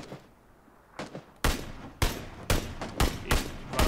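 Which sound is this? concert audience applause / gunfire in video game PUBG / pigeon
gunfire in video game PUBG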